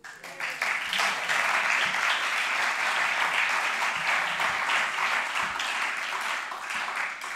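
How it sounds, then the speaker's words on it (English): A theatre audience at a live show at the Jetty Memorial Theatre bursts into applause for a band member up in the sound booth, quickly building to loud, dense clapping that holds steady and then eases slightly. "I just want you guys to give a round of applause to my second band member, which is Nath up in the sound booth"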